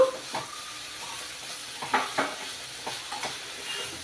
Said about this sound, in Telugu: మధ్య మధ్యలో కలుపుకుంటూ ఉండాలి ఇలా మధ్య మధ్యలో కలుపుకుంటూ ఉండాలండి బాగా వేగినంత వరకును